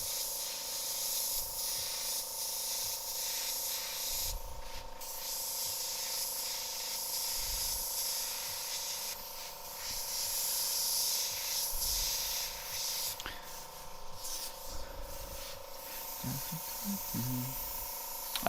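An airbrush sprays paint onto a T-shirt during live graffiti work, a faint continuous airy hiss with a steady tone, softly pulsing in bursts, and occasional quiet talk in the background.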